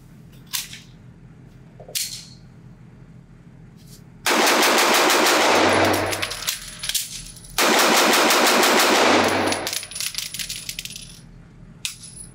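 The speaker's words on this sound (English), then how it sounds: "shooting it as fast as I can, changing this magazine out, and getting it back in action" A Staccato CS subcompact 2011 pistol fires two fast strings of shots at the range, sharp loud cracks in rapid succession, separated by clicks and clatter of a magazine being swapped, with a few metallic handling sounds before and after.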